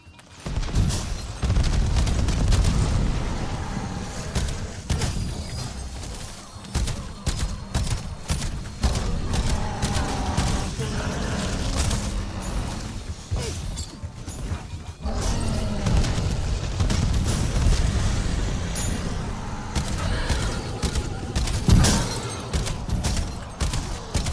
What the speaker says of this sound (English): Cluster grenade out.